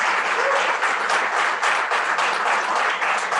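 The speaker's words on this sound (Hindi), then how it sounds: "तो तालियां जोर से बजनी चाहिए प्रकाश सर के लिए।" An audience at a blood donation felicitation event applauds Prakash sir with a thick, even wash of clapping from many hands, loud and continuous for the whole stretch.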